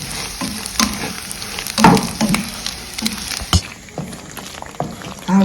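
Gizzard pieces frying in coconut oil, a steady crackling sizzle with scattered pops and stirring clatter, close and fairly loud throughout, no voices.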